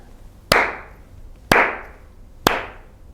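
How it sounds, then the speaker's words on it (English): Three loud, sharp hand claps, evenly spaced about a second apart, each snapping crisply and ringing briefly in a small room, with quiet between them. "I clap for you."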